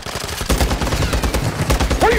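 Rapid automatic gunfire in a video game, dense bursts of close, loud shots over a low rumble, with a brief voice underneath.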